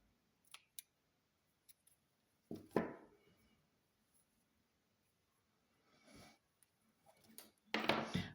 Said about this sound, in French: je viens couper mon fil